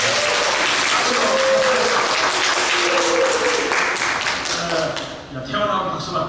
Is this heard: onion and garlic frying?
no